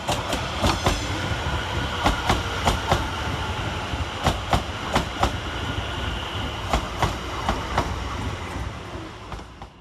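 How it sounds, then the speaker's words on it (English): London Overground class 710 electric unit 710121 pulling into Bethnal Green station, a loud steady rumble with regular clickety-clack wheel beats over rail joints throughout, close by on the platform. "arriving into the station is 710121, working the 1903 London Overground service from London Liverpool Street to Enfield"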